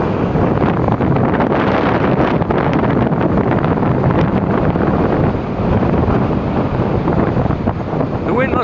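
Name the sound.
strong wind and crashing waves at a lake waterfront during a windstorm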